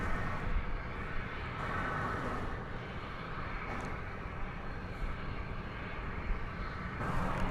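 A Boeing 777 on flight 731 from Doha arriving at Dallas Fort Worth Airport gives a steady, fairly faint broadband engine roar that holds evenly throughout, heard from a distance with no voices.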